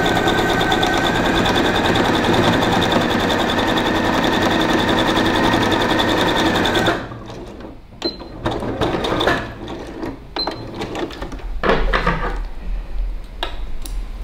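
A sewing machine stitches a seam in a steady fast whir for about seven seconds, then stops, leaving scattered clicks and handling clatter of fabric and parts.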